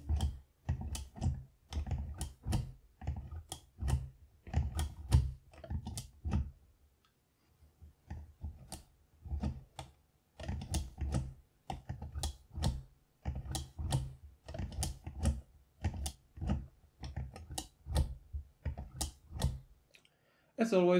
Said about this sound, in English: Now, here's a quick look on how it works and how it sounds.